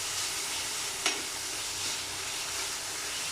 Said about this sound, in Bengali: এখানে চিনি দিয়ে একটু নেড়ে দিব।